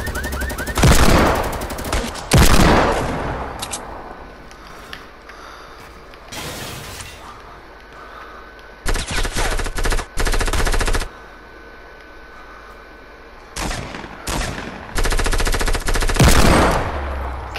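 Hand cannon gunfire in a video game: several loud bursts of rapid shots arrive in separate clusters with quieter gaps between them. No one speaks.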